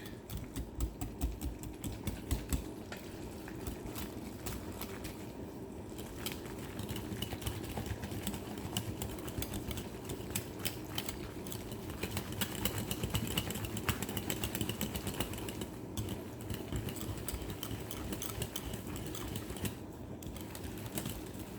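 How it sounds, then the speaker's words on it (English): Ingredients for a pepper steak topping are beaten with a whisk in a bowl, a continuous rapid scraping and tapping rhythm that runs close and steady throughout. "Now, I've got my whisk."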